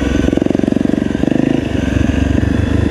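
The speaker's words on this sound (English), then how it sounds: "Bike's running, that's a plus point." A trail motorcycle engine runs loud and close with a steady throbbing idle and brief rises in revs, no other sound over it.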